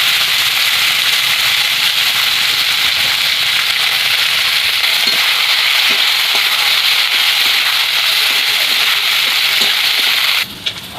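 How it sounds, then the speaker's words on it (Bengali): Ridge gourd frying in a pan for a hilsa-head and poppy-seed curry, a steady loud sizzle with light stirring scrapes throughout, ending with a brief louder burst. "তখন আমি চিচিঙ্গাগুলোকে ভালো করে লাল লাল করে ভেজে নেব।"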